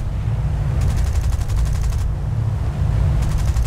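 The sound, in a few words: anti-aircraft flak fire in War Thunder-style bomber video game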